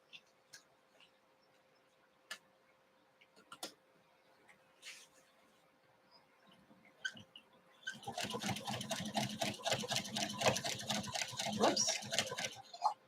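Domestic sewing machine quilting minky fabric, quiet pauses with a few clicks, then a fast continuous stitching rattle that runs steady and fairly loud for several seconds at the end.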